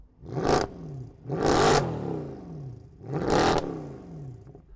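Three loud, sharp Mercedes-AMG C63 engine revs in quick succession, each one a rising roar that falls away with a rumbling crackle before the next blip.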